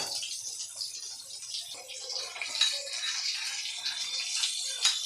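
Chili powder, cumin powder and water being stirred together into a spice paste, a soft wet swishing and light clinking of a spoon in a small bowl, close and fairly faint, with no voices.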